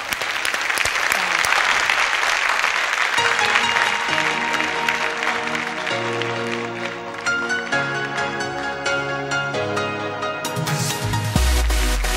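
A studio audience on an Azerbaijani TV talk show applauds to welcome a singer, with dense clapping at the start before music comes in and carries on beneath the fading applause.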